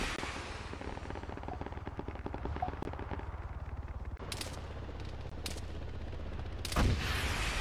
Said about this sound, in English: Lord, we're getting shot at here.